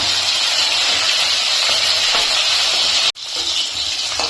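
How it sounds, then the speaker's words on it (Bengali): Rohu fish frying in mustard oil, a dense, steady close sizzle and hiss that holds even, broken once by a brief cut before resuming. "মাছগুলো আমি হালকা লাল লাল করে ভেজে নিয়েছি"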